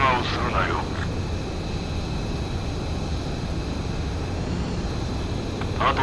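In the video game Ace Combat 7, a jet aircraft landing on a runway gives a continuous, broad engine roar at moderate level. Radio voices talk faintly over it.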